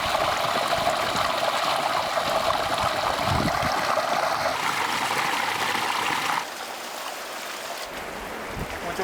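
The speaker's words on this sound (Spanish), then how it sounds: "Allá se ve la otra vertiente que está suministrando agua." Water from a spring flows and trickles steadily inside an old salt mine gallery, a continuous close wash of running water with no voices.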